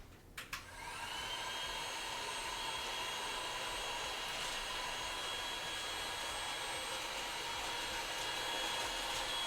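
A heat gun on its high setting blows hot air in a steady, loud whooshing roar with a faint whine, starting after a couple of clicks and running on unchanged.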